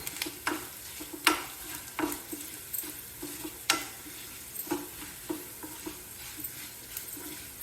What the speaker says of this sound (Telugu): పోపు అయిపోతుందండి